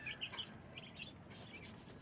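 Chickens clucking and squabbling as they compete for scattered feed, a faint flurry of short calls at a distance with no talking.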